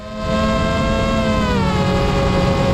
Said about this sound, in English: That's the sound of a motor that has stopped responding to input.